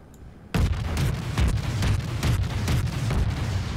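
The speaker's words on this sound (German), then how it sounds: "Na, da kommen die Schüsse her." Naval gunfire in the World of Warships video game, aboard the Soviet cruiser Krasny Krym, bursts in suddenly after a quiet start and continues as a dense run of booming shots and explosions, loud and sustained with repeated heavy thuds.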